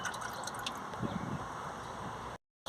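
Gear oil trickles and drips into the manual gearbox of a VW Crafter 2.0 TDI as a small flushing dose, a close, steady liquid gurgle with soft drips that ends abruptly in silence.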